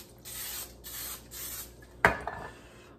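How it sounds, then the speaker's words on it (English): Butter-flavored cooking spray misted onto potatoes in three short hissing bursts, followed by a sharp clink of a pan or dish and a brief rattle, close and fairly quiet. "I'll just spray them with my butter and put some salt on them."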